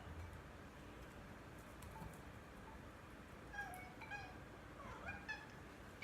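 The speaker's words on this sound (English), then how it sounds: "I have a kitty cat here who thinks this pot roast should be in his dish. So he's letting me know." A pet cat meows in a kitchen for pot roast being made in a crock pot; a few faint, rising meows come in the last seconds over a low, steady background hiss.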